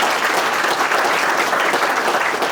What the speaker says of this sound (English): Let's give a round of applause for those people.